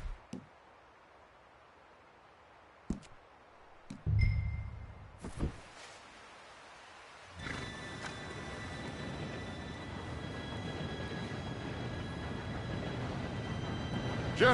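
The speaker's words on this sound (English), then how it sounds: "Train could be here any minute now." In Red Dead Redemption 2, an approaching train builds into a steady, broad rumble with a faint whistle-like tone. A few sharp clicks and knocks come first over a quiet background, then the rolling noise swells and holds, with no talking.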